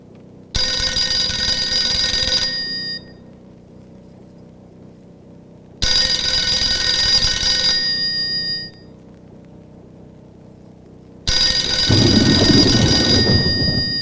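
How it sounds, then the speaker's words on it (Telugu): A telephone rings in a scene from a Telugu comedy-drama film, in three loud, steady bursts separated by pauses of quieter room tone, as a call goes unanswered. "రింగ్ అవుతుంది."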